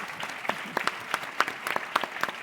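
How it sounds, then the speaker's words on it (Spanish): Scattered applause from a conference audience, a modest number of people clapping in loose, uneven bursts rather than a dense roar, fairly close and without talk. "estas personas se merecen, me parece a mí, un aplauso"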